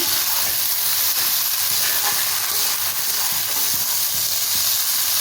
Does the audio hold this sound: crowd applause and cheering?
no